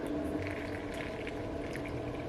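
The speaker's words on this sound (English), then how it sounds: "So this one I'm gonna put water." Water is poured into a cup of Korean snack shake powder, a close, bubbly liquid gurgle and splash that continues steadily for a couple of seconds.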